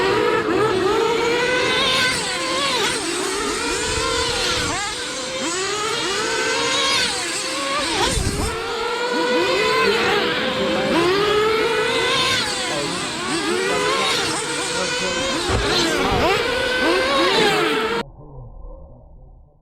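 Nitro-powered RC dirt oval race cars scream around the track in continuous high-pitched whining, engines rising and falling as the pack passes repeatedly, loud and close, before abruptly cutting off.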